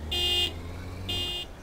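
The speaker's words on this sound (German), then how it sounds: "Hupen ist mein Jubeln." Car horn in Taxi Life Simulator, two short loud honks about a second apart, each a steady buzzing tone, over a low hum of the game's taxi engine and city background.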